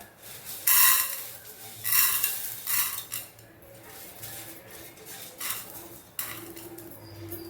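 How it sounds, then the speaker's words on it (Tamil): Urad dal and chana dal dry-roasting in a pan for a sundakkai thuvaiyal, stirred by hand: several close, loud bursts of scraping and rattling against the pan at irregular intervals, with quieter gaps of low background between strokes. "இப்போ உளுந்தையும் கடலைப்பருப்பையும் வறுத்துருவோம்"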